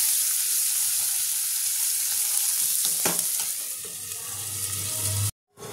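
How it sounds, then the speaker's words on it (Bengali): Onions fry in hot oil along with already browned potatoes, a steady loud sizzle with occasional stirring scrapes, cut off by a brief silence near the end. "পেঁয়াজটাও একটু লাল লাল করে ভেজে নেব"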